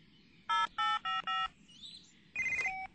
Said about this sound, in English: Oh, I'd better phone and tell him.